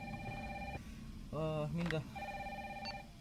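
An old telephone rings in Resident Evil 3 Remake, two long electronic trill bursts with a short gap between them, heard clearly under a voice talking over the game.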